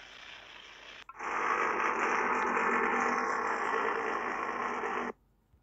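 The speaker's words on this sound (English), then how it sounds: "I think this is the engine." A VL Commodore with a swapped 2JZ engine idles in a racing video game, a loud, steady mechanical drone that starts abruptly, holds evenly for about four seconds, then cuts off.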